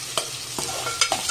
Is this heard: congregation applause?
no